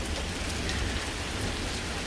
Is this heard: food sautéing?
no